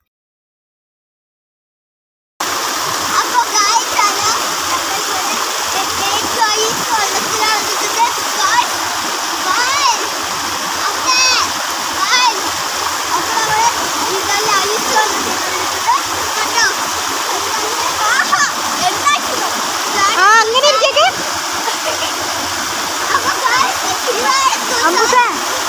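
Children jumping and splashing into a stream or pool, with a steady rush of falling water and repeated splashes. Excited voices talk and shout over the water throughout.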